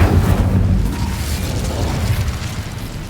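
Incendio fire spell cast in the Hogwarts Legacy video game, a loud, continuous roaring burst of flame with heavy low rumble that stays strong for about three seconds and fades only slightly, with no talking.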